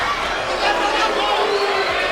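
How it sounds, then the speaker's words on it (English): A boxing arena crowd at the Devin Haney vs Juan Carlos Burgos fight gives off a steady roar with scattered boos mixed into the general crowd noise, and a voice can be heard over it. "Now a few scattered boos here in the crowd"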